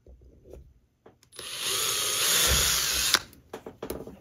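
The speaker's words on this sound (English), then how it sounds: "I need to put the screw hole in there too." A power drill bores a screw hole into a part of an HO scale steam engine kit, a steady whirring burst of about two seconds rising from quiet handling noises, close and loud, followed by light clicks and taps.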